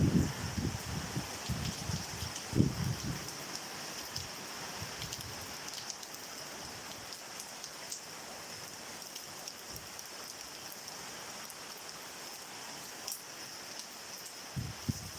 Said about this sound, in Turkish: Yağmurun ortasındayız